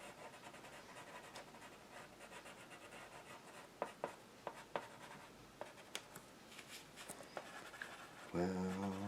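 Pencil crayons scratching and rubbing across paper as it is colored, faint close-up strokes with a few sharper ticks, followed by a brief burst of louder sound at the end.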